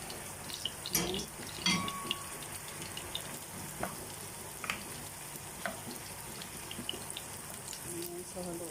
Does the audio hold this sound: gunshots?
no